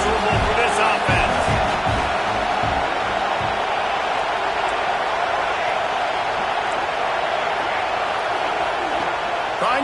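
Stadium crowd roaring steadily throughout a Purdue vs MSU college football game in a video game, a dense continuous wash of noise with a commentator's voice talking over it.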